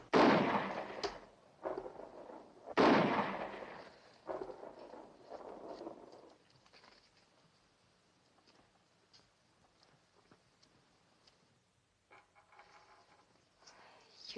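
Gunshots fired at squirrels boom out in a cluster of loud, heavy reports, several in quick succession at the start, then fading into quieter rumbling and faint patter.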